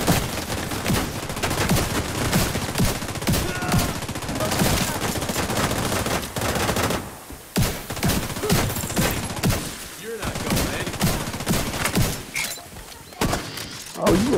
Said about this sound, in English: you gonna put a damn machine gun in front of me?